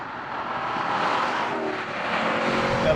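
A Chevrolet SS four-door muscle car's engine roars steadily and loudly, a broad sustained growl with no talking over it.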